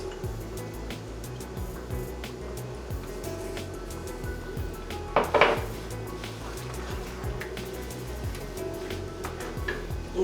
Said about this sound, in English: So I'm just going to mix this.